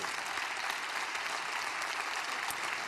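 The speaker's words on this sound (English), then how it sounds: "I think we can give him a warm round of applause." An audience at a conference interview session applauds the guest, a Ukrainian businessman, with steady dense clapping that holds evenly throughout, no voices on top.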